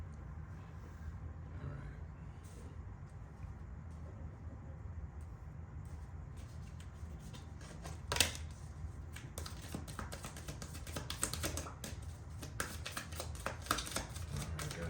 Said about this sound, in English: So I'm shuffling here.